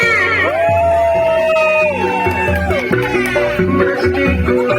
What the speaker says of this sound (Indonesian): Untuk River, mana tepuk tangannya?